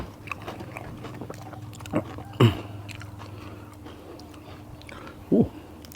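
Crispy battered fried soft-shell crab is bitten and chewed up close, a few sharp crunches spaced a couple of seconds apart over a low background hum, with a faint voice or murmur.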